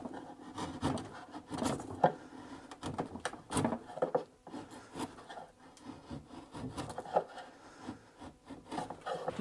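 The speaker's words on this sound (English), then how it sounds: "This crank neck chisel is perfect for this." Wood being pared with a crank neck chisel in a tight spot of a rustic wooden chest under repair, heard as close, irregular scraping and rubbing strokes with soft knocks, with no talking.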